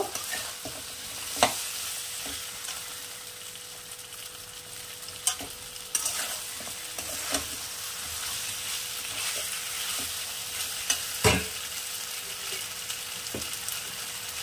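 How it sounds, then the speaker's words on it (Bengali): Pointed gourd and shrimp fry in a pan with a constant sizzling hiss, broken by occasional spoon scrapes and clacks against the pan as they are stirred, up close, with nobody talking. "চিংড়ি দিয়ে মাখানো এটা দিয়ে দেবো। একটু নাড়াচাড়া করে নেব।"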